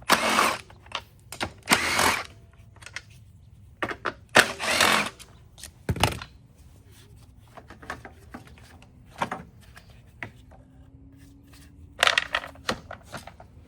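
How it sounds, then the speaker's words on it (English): Tools working on the recoil starter of a Craftsman M110 mower engine that won't start, a series of close, irregular metallic clicks, scrapes and rattles separated by quiet gaps, with faint squeaks between them. "We're gonna have to pull this recoil off"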